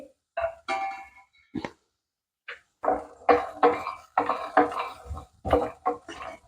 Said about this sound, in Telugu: కొన్ని వేరుశనగ విత్తనాలు అలాగే పచ్చి కొబ్బరి వేసి వేయించుకుంటున్నాను